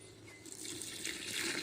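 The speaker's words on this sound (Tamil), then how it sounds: "இப்போ இதுக்கு தேவையான தண்ணி வந்து நம்ம அளந்து எடுத்து ஊற்றிக்கலாம்" Water runs steadily and splashes into a cooking pot for vegetable biryani, a continuous close pour that grows slightly louder toward the end.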